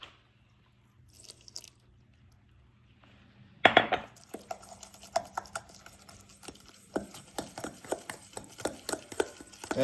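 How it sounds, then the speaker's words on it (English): A spoon stirs thick corn muffin batter in a bowl. The utensil scrapes and clinks against the sides in an irregular, close rhythm after a near-silent pause. "And stir it up like this."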